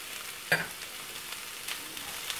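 Peppers and finely sliced garlic stirred in a hot pan: a quiet, even sizzle with one sharp utensil clink early on and a few softer scrapes.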